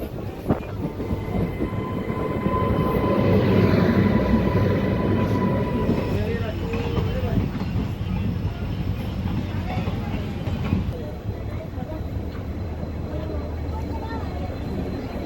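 The Adilabad–Pandharpur train rumbles loudly into Purna Junction station, its steady roar and metallic rolling close by, while a voice talks over the noise.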